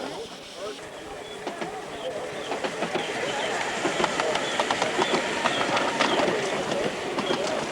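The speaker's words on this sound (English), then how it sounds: "Finn McCool passes through the shed area with a passenger train returning" A 7¼ inch gauge miniature steam locomotive hauling a passenger train through a shed area, with steady clickety-clack of wheels rising in level as it passes close by, birds calling and distant chatter around.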